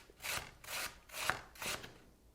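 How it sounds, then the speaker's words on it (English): Apple slices being grated for breakfast muesli, with about four rhythmic rasping strokes against the grater, close and fairly soft, with short pauses between them and no talk. "Grating apple slices"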